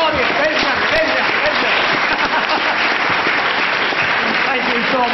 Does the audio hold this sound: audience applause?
yes